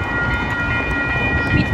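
An Amtrak Pacific Surfliner passenger train rolls past a railroad crossing, a loud, close, steady rumble of wheels on rail with a sustained high ringing tone over it.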